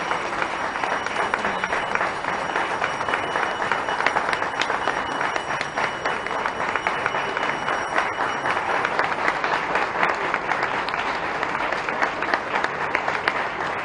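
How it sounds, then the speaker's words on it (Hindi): Sustained audience applause at a public event in Bhopal, Madhya Pradesh, dense steady clapping from a large crowd throughout, loud and continuous with no talk over it. "जोरदार तालियां"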